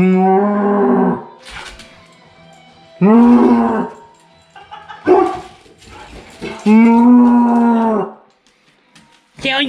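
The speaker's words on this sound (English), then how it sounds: "Diesel, there's cows in here." Cows low in several long, loud moos, close by and one after another with short quiet gaps between them, in a farm setting where dogs are also around.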